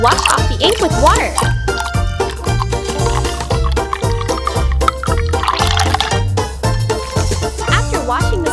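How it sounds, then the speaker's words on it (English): Water runs and splashes over squid in a bowl as the ink is washed off in a miniature cooking setup, steady trickling and sloshing throughout with background music underneath. "Then we will wash off the ink with water."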